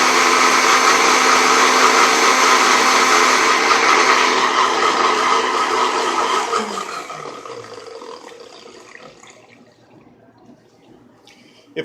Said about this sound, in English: a quick way to clean the blades on the blender. Just to put some water in there